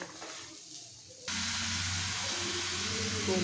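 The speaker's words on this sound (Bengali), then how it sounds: "দিয়ে দেবো পরিমাণ মতো সাদা তেল, দিয়ে দিচ্ছি গোটা গরম মশলা ফোড়নে" Whole garam masala spices dropped into hot white oil, a quiet hiss first, then an abrupt loud steady sizzle that starts partway through and holds to the end.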